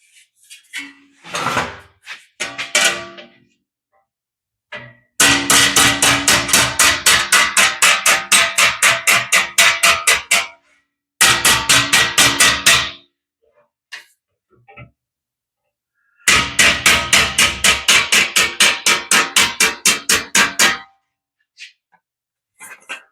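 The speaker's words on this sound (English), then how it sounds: "Got a little bit of hammer forming needed doing on it." A hammer forms sheet metal on the cab of a 1941 Ford two-ton truck. Loud, ringing metallic blows land in fast, even bursts of many strikes, separated by short silences.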